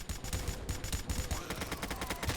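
Rapid bursts of Roblox gunfire crackle in a dense, continuous volley, loud and close, with a fast machine-gun rhythm filling the moment.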